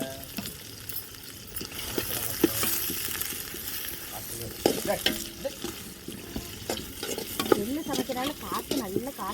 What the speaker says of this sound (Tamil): இப்போ வெங்காயம்லாம் சேர்த்தாச்சு வெங்காயம் நல்லா வந்து செவந்து பொன்னிறத்துக்கு வரட்டும்